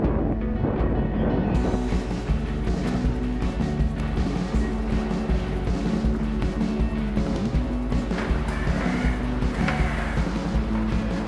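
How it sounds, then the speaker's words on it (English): A Koenigsegg Jesko revs and accelerates, engine note rising and dropping as the gearbox shifts down and up, loud and continuous with a deep rumbling low end throughout. "So then immediately drops down to third, you accelerate, and maybe then it jumps back to second."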